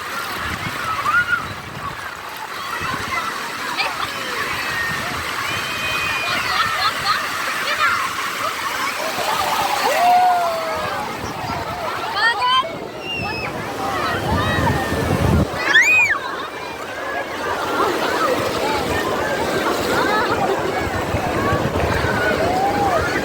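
Sea waves at Digha beach wash in and out as a continuous rushing surf with wind buffeting the microphone, and people talk over the water throughout.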